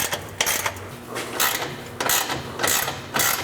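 A ratchet wrench tightens clamps on a Magnaflow Pro Series diesel exhaust system. It makes several bursts of quick clicking with short pauses between the strokes, close and fairly quiet.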